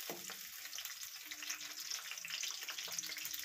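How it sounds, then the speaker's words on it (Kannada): Onions frying in hot oil in a pan, a steady close sizzle with faint crackles and a few light clinks, no talking. "ಈರುಳ್ಳಿ ಫ್ರೈ ಆಗಬೇಕು"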